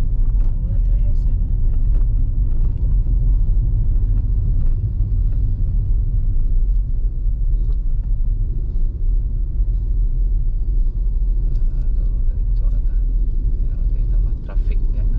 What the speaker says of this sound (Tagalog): That's one of our public transport here in the Philippines.